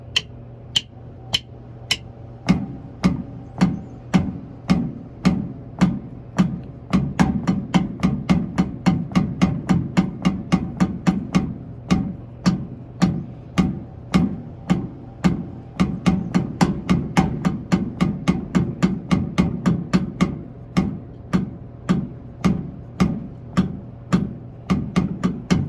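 Wooden drumsticks play a fast double stroke roll, pairs of crisp strokes running in a steady, dense stream; a few sparse hits open the run before it settles into continuous rapid doubles, close and moderately loud with no talk.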